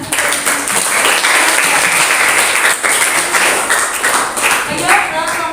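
Classroom applause following a group presentation, a dense steady clapping from students that fills the whole stretch at close range, with some voices mixed in beneath it.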